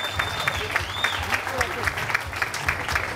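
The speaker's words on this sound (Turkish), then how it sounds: "Büyük bir alkış istiyorum." Lively audience applause at the opening launch of a dental clinic branch in Etiler, Istanbul; many hands clapping steadily and close, with faint voices and a brief whistle-like tone mixed in.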